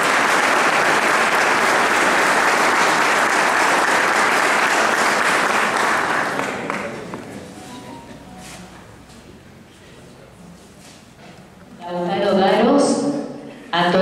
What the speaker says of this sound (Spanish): El aplauso para él.